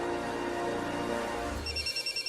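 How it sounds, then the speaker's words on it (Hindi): A telephone ringing indoors in a television drama, a sustained ring that gives way to a repeating pulsed electronic ring tone, clear and alone with no voices. "आ गया मेरे भाई का फोन"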